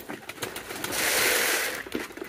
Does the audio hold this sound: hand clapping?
no